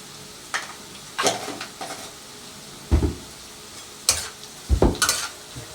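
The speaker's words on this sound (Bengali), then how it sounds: "পেঁয়াজগুলো এইটটি পার্সেন্ট ভাজা হয়ে গেছে" Salted onions frying in a pan, heard as a low sizzle broken by several loud scraping stirs of a spoon against the pan, spaced irregularly and close by, with no talking.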